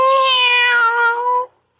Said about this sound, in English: Why, you're purring